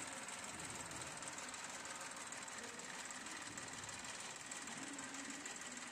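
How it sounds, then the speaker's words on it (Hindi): A 2005 Massey Ferguson 1035 DI tractor's diesel engine runs steadily close by, a continuous dense rumble with a rapid knocking pulse and no pauses, heard alone. "यहाँ पे आप ट्रैक्टर की आवाज़ भी सुन सकते हैं"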